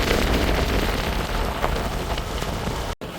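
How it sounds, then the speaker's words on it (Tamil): Heavy rain pours steadily during flooding around Jaffna Bay, a dense continuous hiss of drops hitting surfaces, loud and close throughout with a brief dropout near the end. "இப்போ மீண்டும் வந்து ஒரு கனமழையாக பெய்ய வலிக்கிட்டு இருக்குது"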